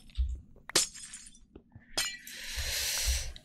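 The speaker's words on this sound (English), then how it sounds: "Scary noises from the portal." Nether portal noises in RTX Minecraft: a sudden crash-like burst, a second sharp surge, then a sustained swelling hiss with low rumbling thumps underneath, loud and close with no talking.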